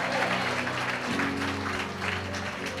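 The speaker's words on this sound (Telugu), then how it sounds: "చప్పట్లు కొట్టి దేవుని మహిమపరచండి." A church congregation claps together during a worship service, filling the room with a dense, continuous wave of applause. A low organ-like tone hums underneath it.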